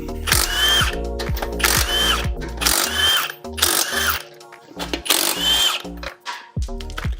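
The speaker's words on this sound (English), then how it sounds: "So let me get the gun, blast these wheels off" An impact gun on a Volkswagen Golf GTI Mk7 hammers car wheel lug bolts loose in several loud, rattling bursts of about a second each, with short gaps between them. No one speaks.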